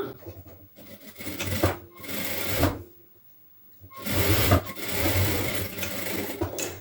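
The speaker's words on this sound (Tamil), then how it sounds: "நீங்கள் வந்து ஒன்று ஒன்றா ஸ்டிச் பண்ண ஆரம்பிங்க" A sewing machine stitches blouse front and back fabric pieces together in two steady runs of rapid whirring, separated by a brief silent pause, close and fairly loud.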